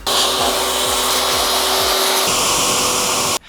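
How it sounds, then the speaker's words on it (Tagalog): An air blower roars steadily up close as it dries washed brake caliper parts from a twin-pot, four-piston caliper. The rushing hiss shifts in tone partway through and then cuts off abruptly, with no talking. "Siyempre after hugasan, kailangan i-blower agad kasi mag-accumulate agad siya ng rust"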